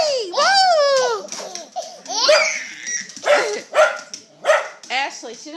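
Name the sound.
dog barking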